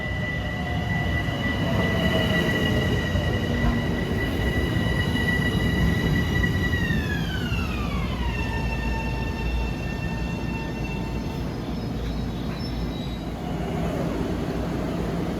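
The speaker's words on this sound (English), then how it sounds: "Here's train 1608, Grand Central to Huntington, stopping in Mineola on number 2 track." Long Island Rail Road train 1608, Grand Central to Huntington, pulls into Mineola on track 2 during the morning rush, a steady loud rumble with high wheel squeal and sliding brake tones that drop in pitch as it slows.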